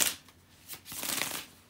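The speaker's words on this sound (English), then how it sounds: "give me a moment, guys, to shuffle the tarot cards" A deck of tarot cards is shuffled by hand: close, quick papery riffles and slides in a couple of bursts with no voices.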